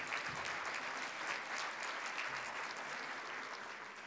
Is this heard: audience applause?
yes